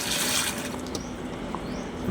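Running water from a faucet flows at low pressure into a goldfish aquarium, a steady faint hiss and trickle heard alone and close.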